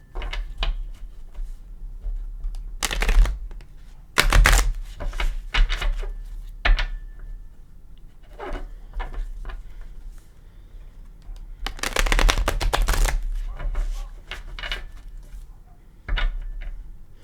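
Gilded Tarot cards are shuffled close up, with repeated crisp riffling bursts and soft slaps of the deck, separated by quieter pauses of handling.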